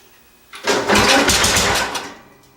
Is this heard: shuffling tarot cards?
no